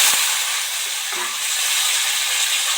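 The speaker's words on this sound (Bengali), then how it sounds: "এবার এই আলু আর টমেটোটা তেলের মধ্যে উঠিয়ে দেব" Potatoes and tomatoes drop into hot oil that has already fried chillies and bay leaves, giving a loud, dense, continuous sizzle and hiss with a brief clack of a utensil near the start.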